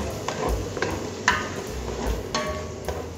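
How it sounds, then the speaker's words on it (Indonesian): Spice paste with shrimp paste being sautéed in a pan for a tofu, tempeh and krecek stew, giving a steady close sizzle with occasional sharp clicks and scrapes of stirring. "Tumis bumbu sampai wangi dan matang."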